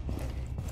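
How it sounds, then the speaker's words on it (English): A magazine swap reload in the tactical shooter Rainbow Six Siege: a brief, close run of mechanical clicks and metallic clacks as the mag comes out and goes in, lasting under a second. "Swapping mags!"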